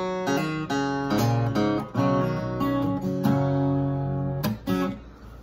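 A plucked guitar melody with ringing notes and quick legato slurs between them, played close and clear with no voices.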